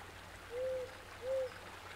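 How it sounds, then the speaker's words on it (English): Two soft, clear owl hoots in the game Eastshade, evenly spaced and mid-distance, over a quiet bed of trickling water ambience. "It's an owl."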